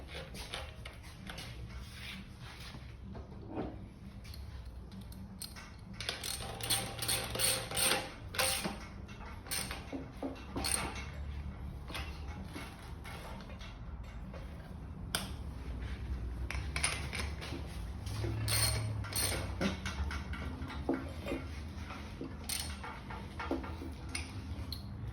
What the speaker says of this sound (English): So tighten the nuts.